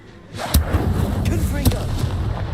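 An Incendio fire spell cast in the Hogwarts Legacy video game: a rumbling, crackling burst with two sharp gunshot-like cracks, loud and close.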